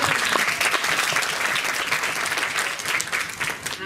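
An audience claps continuously, a dense patter of many hands filling the room at a steady level.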